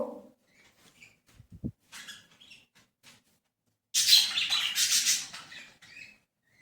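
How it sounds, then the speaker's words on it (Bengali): Pet birds in an indoor bird room, lovebirds among them, give scattered chirps and then a loud burst of squawking chatter in the second half, with no talk. "আমি এসে গেলাম পাখি ঘরে, আর সব পাখিগুলো একবার সব দেখে নেবো"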